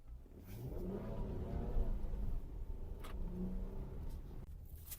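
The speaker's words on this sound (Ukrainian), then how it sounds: "розкажемо вам, як їде джип Cherokee Trailhawk у версії з двигуном V6 Pentastar" A Jeep Cherokee Trailhawk with the 3.2-litre V6 Pentastar engine driving, its engine droning and rising in revs as it pulls, heard steadily throughout with a few brief sharp knocks and no speech.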